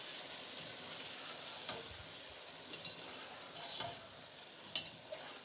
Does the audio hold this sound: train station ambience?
no